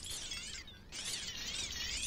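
In the video game Superhot, glass shatters in a continuous bright, crackling burst of breaking shards that dips briefly and then surges again, loud and close, with no talking.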